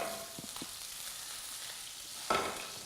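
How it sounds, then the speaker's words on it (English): Salmon sears in a hot pan on the stove, a steady, fairly quiet sizzle running throughout with a couple of soft clinks early and a brief louder burst of frying near the end; no one speaks. "So our salmon is seared."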